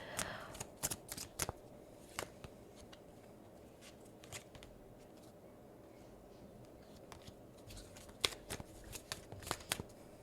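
Tarot cards being shuffled and drawn, quiet and close, with sharp flicking riffles scattered over ten seconds against a soft hiss, loosest and densest near the beginning and the end.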